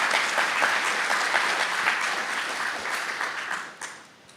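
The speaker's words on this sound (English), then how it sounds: "So a round of applause for them." Audience at JuliaCon 2023 applauds the conference sponsors and organizers, a dense steady clapping from a room full of people that tapers off near the end.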